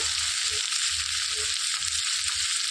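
Broad beans fry in a pan with a steady, moderately loud crackling sizzle that holds evenly throughout, with no voices over it.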